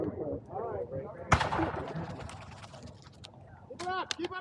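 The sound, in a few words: volleys of gunfire during a battle reenactment skirmish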